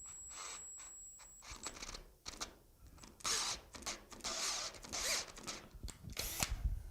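Drilling a centered hole with a number 4 bit during brake work: an intermittent, close whirring drill in short bursts with pauses, plus small scraping and tool handling noises, no talk.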